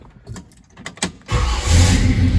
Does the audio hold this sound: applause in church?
no